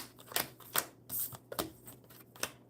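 Tarot cards being shuffled by hand, a run of crisp riffling bursts and soft slaps spaced unevenly over a quiet room, close and fairly light.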